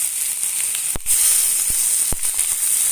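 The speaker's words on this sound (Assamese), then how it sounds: "মছলাখিনি দি দিলোঁ" Spices fried in hot oil give a steady, close sizzling hiss, broken by a few sharp pops and crackles.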